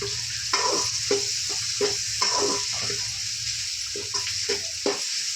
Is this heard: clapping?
no